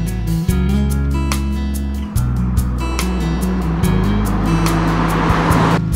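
A bright red Golf GTI with a 200-horsepower turbocharged engine and six-speed manual drives through Colorado mountains, its loud steady engine drone rising and falling with gear changes, close and continuous with no talk.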